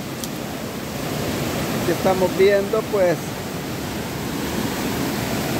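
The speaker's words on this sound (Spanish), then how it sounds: "cómo crece este río" A swollen river rushes steadily, a broad loud roar of churning water that fills the whole scene, with someone speaking Spanish briefly over it.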